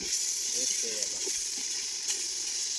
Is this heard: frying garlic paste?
yes